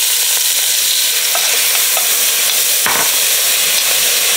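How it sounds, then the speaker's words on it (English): Onions and celery sweating in a pan after bacon was removed, for clam chowder: a loud, dense hiss of frying close by, with a brief scrape of stirring near the middle. "We're just gonna cook this down until the onions start to sweat."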